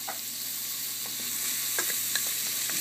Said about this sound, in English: the butter is boiling now, so I want to get those vegetables thrown in real quick to get those sauteed up